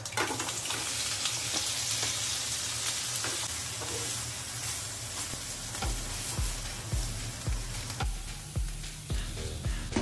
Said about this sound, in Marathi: मोहरी आणि जिरी टाकणार.